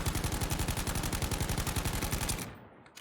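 Rapid automatic fire from an assault rifle, the Sturmgewehr, in Battlefield V: a tight, even stream of about a dozen shots per second for over two seconds, then it stops and fades.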